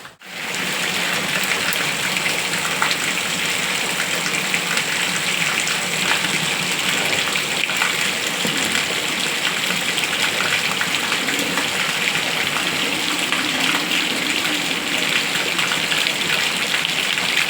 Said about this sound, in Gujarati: ફૂલ વરસાદ છે વાવાઝોડું છે